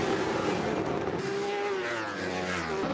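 Superbikes launching off the start line at Brands Hatch race circuit, a loud rising engine howl with revs climbing and changing pitch over a few seconds.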